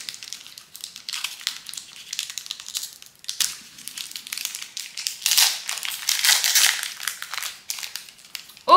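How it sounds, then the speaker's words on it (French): Crinkly foil wrapper of a Magic: The Gathering Bloomburrow booster pack crackles and crumples close up as it is worked open, a busy run of rustling that swells louder midway before ending in a sharp crackle. "Et puis, on va l'ouvrir."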